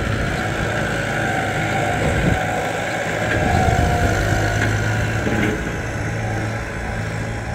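A Kubota M108S turbocharged farm tractor runs steadily while levelling dirt, a loud continuous diesel drone with a low rumble and a few slight surges in intensity, close to the microphone and without talk.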